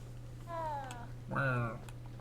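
A cat in a wizard video game lets out two short meows, the second louder and rising, over a low steady hum.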